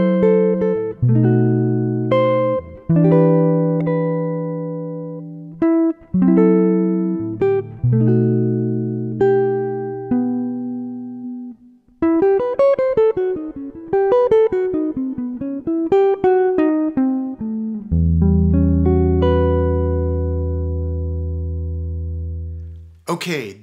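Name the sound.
jazz guitar playing song ending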